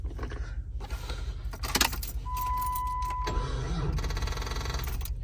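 Keys jangle in the ignition of a lifted Jeep Grand Cherokee ZJ suspected of a bad alternator, then the starter cranks briefly and the engine catches, settling into a steady close idle.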